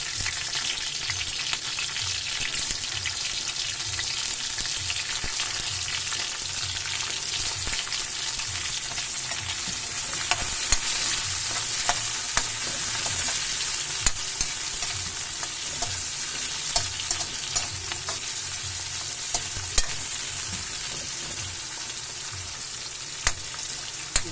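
Tomatoes being stirred into a hot frying pan while cooking sautéed bitter gourd with eggs: a steady, continuous sizzle with a soft rhythmic scraping of the spatula throughout, close and fairly loud, with no talking.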